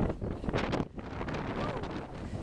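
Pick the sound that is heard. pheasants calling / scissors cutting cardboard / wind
wind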